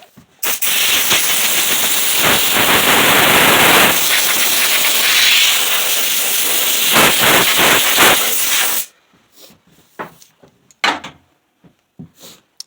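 A hot air gun blows steadily across a freshly sanded wooden cutting board in a woodshop, a loud continuous rushing hiss lasting several seconds before cutting off, followed by a few faint scattered knocks and handling noises.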